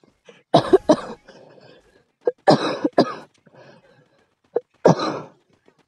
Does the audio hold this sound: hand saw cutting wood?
no